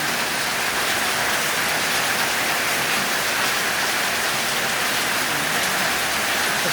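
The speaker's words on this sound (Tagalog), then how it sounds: "May ulan dyan." Steady rain pouring down in the early morning darkness, a dense continuous hiss that stays even throughout, fairly loud, with no voices.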